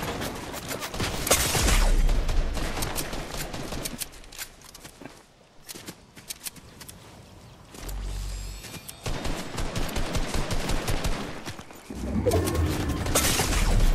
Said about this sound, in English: I'm getting shot at from the freaking bush